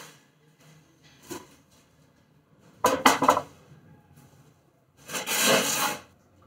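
Roasted tomatoes tipped into a grinding container for chutney, giving three separate scraping, clattering bursts: a short one, then a louder rattling clatter, then a longer rough rubbing scrape, with quiet gaps between and no talk.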